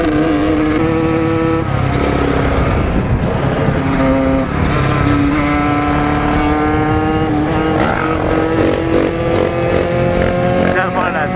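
A 2012 Honda CRF450 motocross bike revs hard and close, its engine pitch climbing and dropping in repeated sweeps, while an excited voice talks over it.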